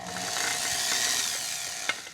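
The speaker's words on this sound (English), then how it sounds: "we're gonna take our drill, and we're just gonna go through there just like that" A drill bores through a wooden plaque mount in a workshop, giving a steady high whirring grind that holds level throughout, closes with a brief sharp knock near the end, and runs without talk.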